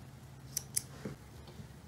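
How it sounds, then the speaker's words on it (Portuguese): Scissors snip through yarn for an amigurumi doll's hair, two quick crisp cuts up close and faint in a quiet room, no talking. "Agora, eu vou cortar o fio."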